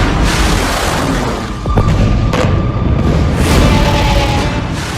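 Cruise missiles fired by the Houthis toward Israel produce a loud sustained roaring rush with several sharp bursts and booms, heard from a distance, continuous throughout without voices.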